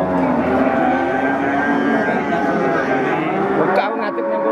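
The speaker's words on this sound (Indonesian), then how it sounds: "Sapi-sapi jumbo." Jumbo Pegon cattle of around 800 kg at a cattle market give a loud, sustained moo close by, filling the clip before it cuts off near the end.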